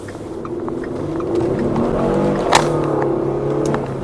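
A Ford Flex EcoBoost AWD engine held back by its stability control cutting throttle, a steady, muffled engine drone heard from inside with a brief rise and a sharp knock partway through.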